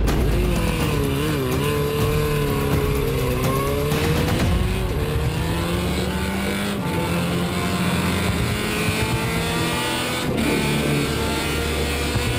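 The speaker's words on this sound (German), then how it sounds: "Um am Start schneller auf Speed zu kommen, fährt Elmar jetzt im ersten Gang an" A motorbike launches hard in first gear on a runway, its engine loud and close, revving up in a rising whine that drops at a gear change and climbs again over continuous wind and mechanical roar.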